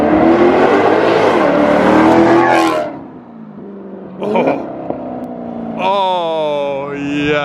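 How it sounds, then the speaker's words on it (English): Maserati V8 revs hard through a non-resonated X-pipe exhaust bypassing the mufflers in sport mode, with loud repeated rising and falling sweeps close up and brief pauses between pulls. "That non-resonated X-pipe with sport mode, bypassing the mufflers basically"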